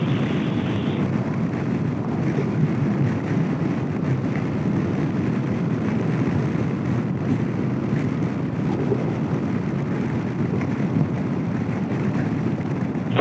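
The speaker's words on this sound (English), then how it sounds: "Getting breezy, a lot of wind." Steady roaring wind buffets the microphone while riding a scooter along the California coast near San Francisco and the Pacific Coast Highway, a continuous loud rush with no pauses throughout.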